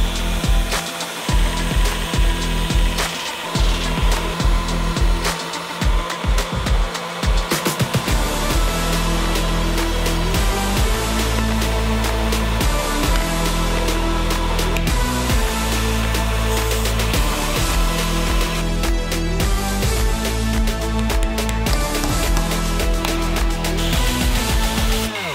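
A wooden hammer handle being smoothed after fitting into the hammer's eye, heard as loud, continuous abrasive shop noise with a machine-like hum and rough scraping texture throughout, no talk.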